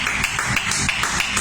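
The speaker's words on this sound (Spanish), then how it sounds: "Denle palmas a Dios" Church congregation clapping together in praise during a Spanish-language worship service, a steady rhythmic beat of palms at roughly three claps per second, full and close, with a preacher's voice running over it.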